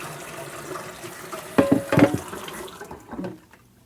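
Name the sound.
hot water running from a tap, rinsing a cast iron pot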